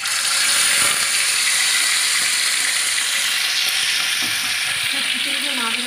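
Chicken pieces hit hot oil tempered with cumin seeds, setting off a loud, steady, dense sizzle that holds through the whole stretch with scattered crackles and light clatter.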